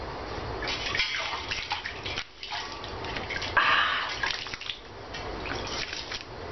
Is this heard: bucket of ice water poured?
yes